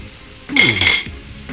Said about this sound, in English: We're going to stir fry it.